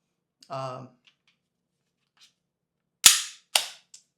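Two crisp metallic clicks as .22 long rifle rounds are pressed into a Sig P322 pistol magazine, close and sharp, after a brief murmur of voice near the start.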